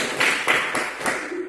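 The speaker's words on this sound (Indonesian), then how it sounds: "Kita tepuk tangan dulu." Students in a physics classroom break into brief applause, a short burst of claps rising and fading over a second or so, fairly close and mid-loud.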